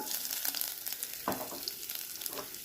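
Finely chopped ginger fries in a pan with cumin for dal, a soft steady sizzle with a light stir or clink, faint and close, no voices.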